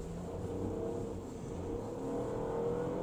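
A Mini Cooper 5-door three-cylinder engine revs steadily above 4000 rpm, its droning hum rising in pitch and holding loud and close throughout.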